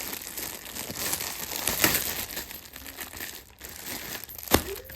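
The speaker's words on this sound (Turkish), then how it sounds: "Şimdi paketlerimizi açalım." Packages are opened at home, with crinkling packaging and tearing rustles heard close up, including a sharper rip toward the end, and no talk.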